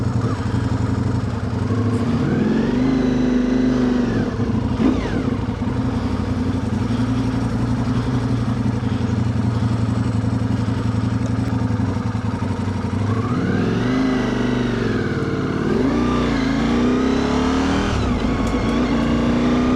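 Ducati Multistrada V4 RS motorcycle with a GP-pattern shifter ridden hard, its engine note rising and falling through repeated revs and gear shifts, loud and close with steady road and wind noise throughout.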